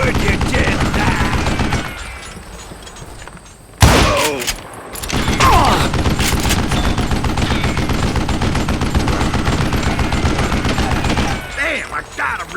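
Gunfire in Call of Juarez Gunslinger: dense bursts of loud, close shots with sharp cracks, a brief lull and a heavy blast mid-way, and voices mixed in with the shooting.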